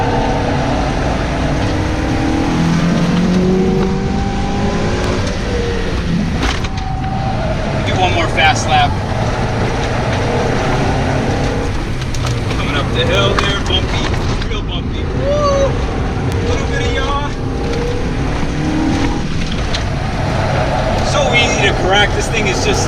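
A stock NA Mazda Miata on a race track gives a steady engine drone with rising and falling pitch through braking and corners, continuous wind buffeting over it, and a voice talking throughout.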